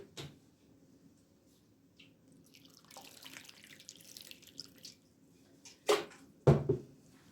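Water poured into bazlama dough made from flour, a soft trickling stretch followed by two sharper splashes near the end, close by with quiet gaps and no talk.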